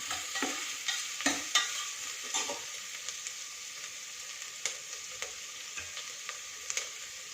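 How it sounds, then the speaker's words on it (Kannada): Onions stir-fried in a pan for a cassava dish, with a steady faint sizzle and frequent light spatula clicks and scrapes, close by, no voices. "ಸ್ವಲ್ಪ ಫ್ರೈ ಆಗೋ ತನಕ ಒಳ್ಳೆ ಈರುಳ್ಳಿ ಘಮ ಬರೋ ತನಕ ಅದನ್ನು ಸ್ವಲ್ಪ ಹುರ್ಕೊಳ್ಳೋಣ"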